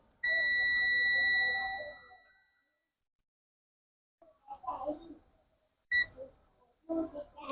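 A single steady electronic beep from a digital multimeter's continuity buzzer rings clearly for about two seconds, then fades out; soft handling clicks and rustles follow after a pause.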